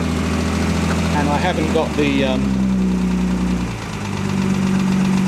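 A restored Austin Healey 100/6 engine idles with a low, steady mechanical hum, while someone speaks close over it partway through.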